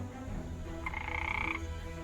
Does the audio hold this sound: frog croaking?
yes